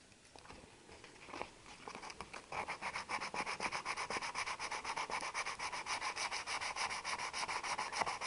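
Hand sanding on a Triumph T120 engine piston beside the gudgeon pin, a close, quiet, rhythmic rasping of back-and-forth strokes that starts irregularly and settles into a steady fast pace.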